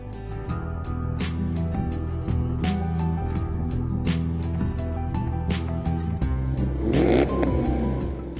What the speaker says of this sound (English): The quadruple exhaust pipes accentuate the unmistakable roar of a V8